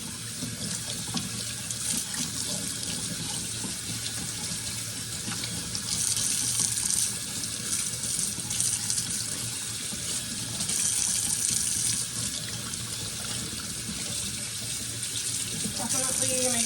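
Cold tap water runs steadily into a sink while freshly harvested garden lettuce is rinsed, a continuous splashing hiss that swells louder at moments as the leaves are moved under the stream.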